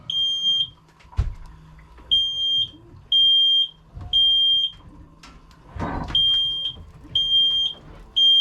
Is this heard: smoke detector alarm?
yes